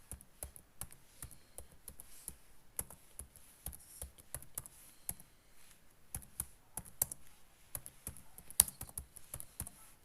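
Rapid, uneven clicking of computer keys while C code is typed, a close and quiet run of taps in short bursts, with no voice.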